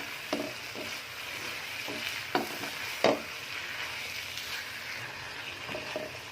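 Tomatoes and vegetables stir-fried in ghee for chicken fried rice, a soft steady sizzle broken by several sharp scrapes and clanks of a spatula against the pan, quiet and close, with no talking.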